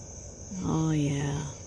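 A single chirp from a critter beside the observer, rising into a smooth, harmonic, warbling call that swells and fades over about a second, close and fairly clear above a quiet background hiss.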